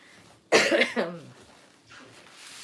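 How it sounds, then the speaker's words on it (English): A single close cough with a couple of rough bursts in a home kitchen, fairly loud against quiet background, followed by faint room noise. "I'm still coughing a little bit"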